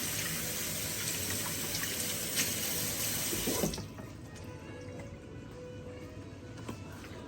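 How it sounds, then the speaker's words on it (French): Hands washed under a running kitchen tap while cooking, a close, steady rush of water into the sink that cuts off partway through, leaving quieter room sound afterwards. "Je lave mes mains."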